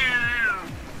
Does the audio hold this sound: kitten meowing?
yes